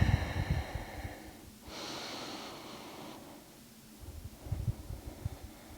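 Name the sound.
deep breathing during pelvic floor exercise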